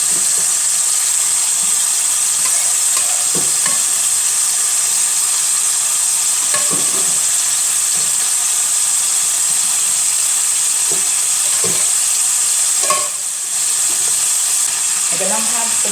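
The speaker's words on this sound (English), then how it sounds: "we're going to pour this sauce on top of the meat" Steady loud sizzling of a turkey leg frying in a pan as sauce is poured over it, a continuous hiss with occasional stirring clicks and a brief bubbling swell near the end.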